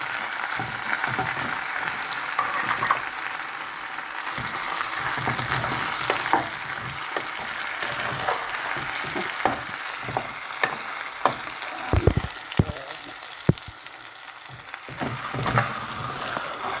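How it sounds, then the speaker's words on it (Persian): Onions fry in a pan, a continuous soft sizzle with scattered pops and a few louder clatters, close by and with no talking. "پیاز هم باید سرخ میکنیم، میذاریم تا سرخ بشه."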